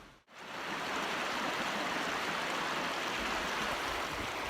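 Water of the Cahaba River rushes over shallow rocky shoals, a steady broadband hiss and gurgle that swells in after a brief gap and then holds constant and fairly close with no voices.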